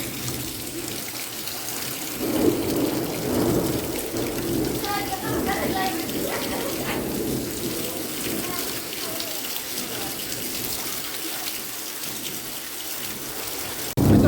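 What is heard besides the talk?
thunderstorm with lightning, thunder and rain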